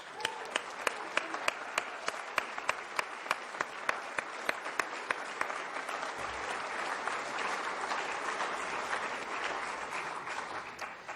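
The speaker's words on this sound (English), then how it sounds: "And how about a round of applause for that beautiful planet?" Applause at a NASA news briefing after the Pluto flyby: a steady wash of crowd clapping with a few sharp individual claps standing out near the front, fairly distant and even.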